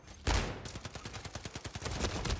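Rapid video-game gunfire striking a player from behind, a loud opening shot followed by a fast, evenly spaced volley of about a dozen cracks that carries on to the end.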